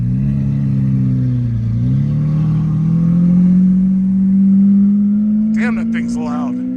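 A Lamborghini Aventador's engine revs loudly and holds a steady, rising drone that swells over several seconds, with brief bursts of voices near the end.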